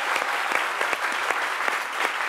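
An audience on a French midday TV show applauds young boy performers, with steady, dense clapping carrying a faint rhythmic pulse throughout.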